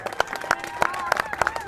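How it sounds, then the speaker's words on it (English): Audience clapping for the Andover Sox youth baseball team: a handful of sharp, evenly spaced claps ring out close by, mixed with voices. "Give yourselves a round of applause."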